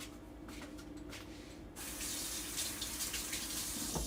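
Water from a kitchen tap begins to run after a quiet moment, then pours steadily in a hissing spray as it splashes over wrists at the sink.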